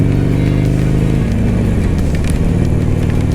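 A Harley-Davidson Sportster motorcycle runs at speed with its engine held at high revs, a loud, close, continuous exhaust drone with shifting pitch, mixed with wind rush and no talk.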